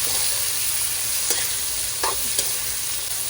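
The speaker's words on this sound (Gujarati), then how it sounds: "હવે આપણે તેમાં કોબીજ એડ કરવાની છે. બરોબર મિક્સ કરી દેવાનું છે." Vegetables sizzle steadily in a frying pan as cabbage is stirred in, with a few scraping clicks of the spoon against the pan over a continuous frying hiss.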